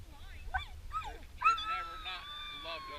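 Dogs whine and yip up close, with several rising and falling whimpers followed by a longer drawn-out whine over a low background rumble.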